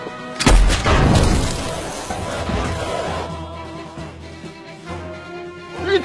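A sharp, loud gunshot cracks out during a street scuffle, followed by a crashing, shattering burst and a lingering commotion that fades into a background hum.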